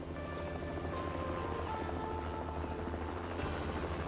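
A helicopter's steady rotor thrum and engine drone fill the scene as it approaches and lands, loud and continuous throughout.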